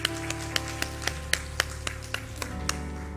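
A church audience claps in a slow, fairly even rhythm of sharp distinct claps, heard over a sustained organ-like tone.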